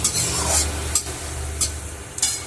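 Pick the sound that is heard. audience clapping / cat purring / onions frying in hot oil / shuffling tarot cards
onions frying in hot oil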